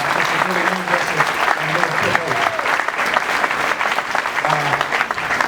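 Sustained audience applause at a political candidates forum, a thick continuous wash of clapping from a hall crowd, with a voice speaking over it.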